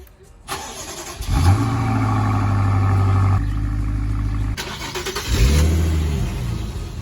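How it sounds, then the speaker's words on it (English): BMW car starting and being moved so a Nissan 350Z can go into the garage; the medium engine revs up, holds a steady running drone, drops back, then revs again, loud and close with no talk. "I gotta move the BMW real quick so that we can move the Z into the garage"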